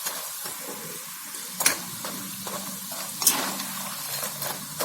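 Peanut pakoda deep frying in hot oil, a steady hiss and crackle with a few sharp clinks of a utensil against the pan, no talking.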